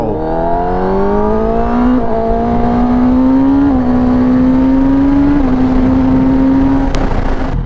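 A 2022 Kawasaki ZX10R sport bike pulls hard at full throttle in second gear, its engine note climbing steadily in pitch with a brief dip at each shift, loud and close throughout with no talking.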